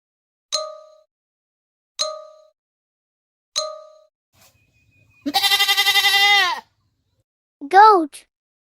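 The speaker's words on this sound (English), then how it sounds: "Goat." Three bright ringing dings are followed by a farm goat's long, loud, trembling bleat, then a shorter rising bleat a moment later.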